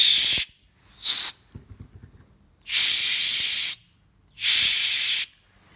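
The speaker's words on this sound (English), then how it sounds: "I'm going to take some canned air. I'm going to watch my eyes and I'm going to blow this out." Canned air blows metal tapping dust out of a Pony 24545 vise, heard as two short hissing spurts, a pause with faint handling clatter, then two longer loud bursts of hiss, all close and without talk.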